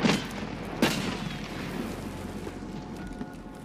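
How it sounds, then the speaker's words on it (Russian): Two grenade blasts in Escape from Tarkov, set in a village firefight: a sharp explosion at the start, a second burst just under a second later, both followed by a rumbling wash of debris and ambient noise. "А это кто там гранаты кидает?"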